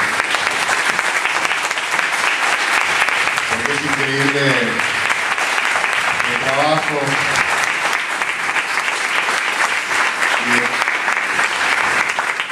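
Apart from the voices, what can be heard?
audience applause at a conference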